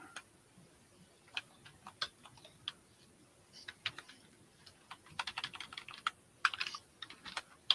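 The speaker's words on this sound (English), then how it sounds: "Well, I can get my typing right." Quick bursts of clicky keystrokes on a computer keyboard, near and fairly quiet, with irregular pauses between runs of typing and no talking.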